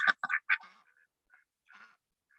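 Ducks at the front of a farm quack in a quick burst of several loud calls, then fall to a few softer, scattered quacks with quiet gaps between.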